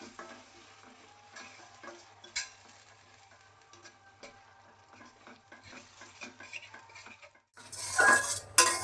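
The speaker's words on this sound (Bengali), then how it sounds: "দইটা ভালো করে নাড়তে হবে, তা নিলে ফেটে যাবে।" Sour yogurt stirred in a frying pan while cooking shol fish rezala, with a spoon clinking and scraping steadily against the pan, then a sudden loud sizzle near the end. No one speaks.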